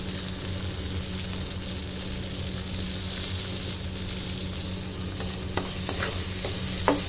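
Onions sizzle in a pan as the base for sopas, a constant close frying hiss with a few sharp clinks of a utensil near the end.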